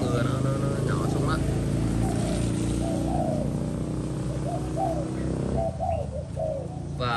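A Malaysian spotted dove coos in short repeated phrases close by, over a steady background hum with light rain, while a person talks over it.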